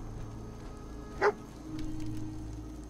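A single short dog bark in Fallout 4, clear and close, over a steady low background hum.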